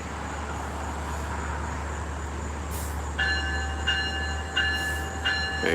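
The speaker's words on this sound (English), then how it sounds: "Westbound train to Huntington, yes." A westbound train to Huntington rolls past with a steady low rumble of wheels on rails, then a loud multi-tone horn sounds in several blasts, close by, with no voices.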